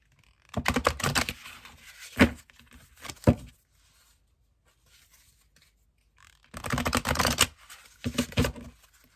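Two bursts of oracle cards being shuffled, riffling and slapping together up close, separated by a quiet pause, with no voices.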